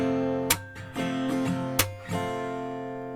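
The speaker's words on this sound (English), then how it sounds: "I choose the strumming pattern that sounds like this." An acoustic guitar strums a strumming pattern, sharp down-strokes ringing out with muted percussive hits between chords, played alone and close.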